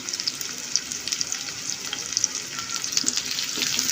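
Green chilies, chopped onion, cinnamon and cardamom fry in oil with a steady close sizzle, sharp crackles and pops scattered throughout, growing slightly busier toward the end.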